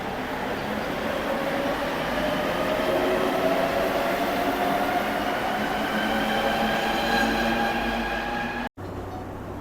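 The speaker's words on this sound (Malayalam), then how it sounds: "നമ്മളിപ്പോൾ ടിക്കറ്റ് എടുത്തിട്ട് മെട്രോൻ്റെ ഉള്ളിലേക്ക് വന്നിട്ടുണ്ട്" A Mexico City metro train runs with a loud, continuous rumble and rising whine of motors and wheels, heard from inside the carriage, with a brief sharp break near the end.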